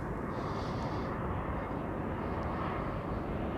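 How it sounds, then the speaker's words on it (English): A Finnair Airbus A321 arriving at Amsterdam Schiphol Airport, a loud continuous jet engine roar close by, holding steady throughout with no voices. "This is Finnair, flight 1301 arriving from bloody Helsinki,"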